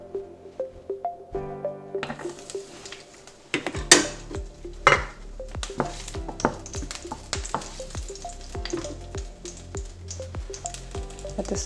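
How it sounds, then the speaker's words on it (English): Garlic hitting a hot greased pan for a lentil-based vegan bolognese, with a sharp sizzle and frying hiss, metallic clinks of a utensil against the pan, and brisk stirring scrapes throughout, fairly close and with no talking. "I'm going to add some garlic now."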